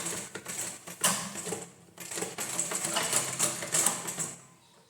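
A sewing machine runs in rapid bursts while stitching blouse fabric slowly, its needle clatter rising and stopping with short pauses between runs, close and fairly loud with no talking.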